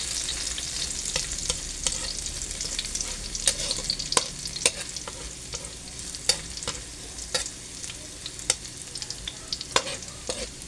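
Garlic sautéing until browned in a pan for vegetables in coconut milk, a soft steady sizzle punctuated by repeated sharp scrapes and clinks of a utensil stirring, close and without voices.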